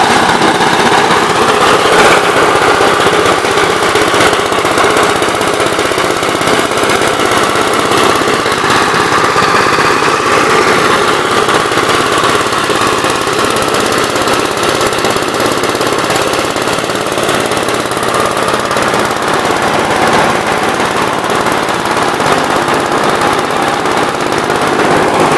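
A Gravely MA 210 snow blower attachment for a 60 LS tractor runs steadily at close range, a loud continuous mechanical drone and clatter that holds without a break throughout.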